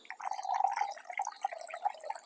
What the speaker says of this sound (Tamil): பால் எல்லாத்தையும் போட்டுக்கொள்ளணும்.